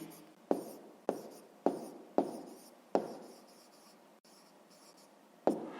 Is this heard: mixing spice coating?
no